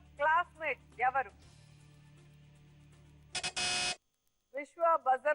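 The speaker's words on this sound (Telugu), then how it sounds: "బజర్ నొక్కారు" A game show buzzer on a Telugu TV quiz sounds once as a short, loud, bright burst, set between bursts of contestant and host speech.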